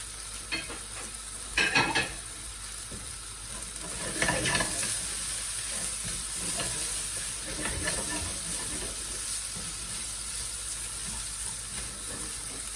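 Fried chicken noodles sizzle and hiss steadily in a hot pan as egg goes in, with a few bursts of stirring scrapes, a faint voice low in the background.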